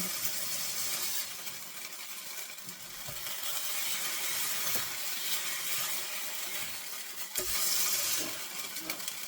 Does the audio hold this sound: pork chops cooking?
yes